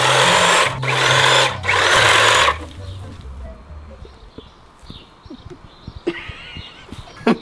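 An electric hedge trimmer cuts back garden plants with loud, close buzzing bursts that stop after a few seconds, followed by quieter rustling and snipping.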